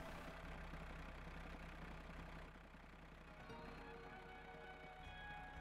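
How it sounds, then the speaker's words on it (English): Fendt tractor engine idling in the Professional Farmer 2014 farming game, a steady low mechanical hum that runs continuously at moderate level with no talk over it. "I'm going to say this is actually a Fendt tractor."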